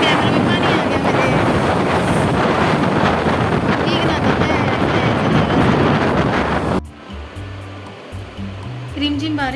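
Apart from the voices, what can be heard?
light drizzling rain with wind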